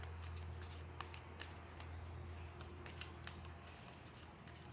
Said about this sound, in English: do some more shuffling